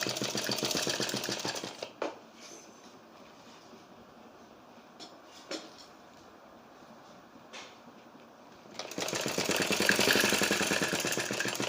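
Sewing machine stitching a kurti collar, running in a steady rapid whirring rhythm at the start and again near the end, with a quieter pause between broken by a few brief clicks.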